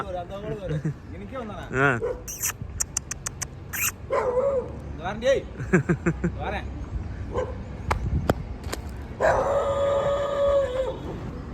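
A dog barks and howls in several bursts at close range, with people talking over and between the calls.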